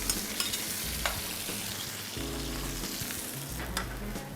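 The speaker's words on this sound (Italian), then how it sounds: "Togliamo subito le erbette e aggiungiamo il polpo affogato." Octopus sizzles in a pan with herbs and fish broth, a constant soft frying hiss with a few small pops and stirring clicks, no talk.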